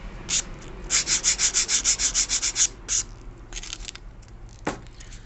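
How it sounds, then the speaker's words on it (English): Sandpaper rubs a small wooden part for a MicronWings Mini Delta model in about a dozen quick, even back-and-forth strokes, close and crisp, followed by quieter scraping and a single sharp tap. "just a couple of strokes with the sandpaper, that's all you need"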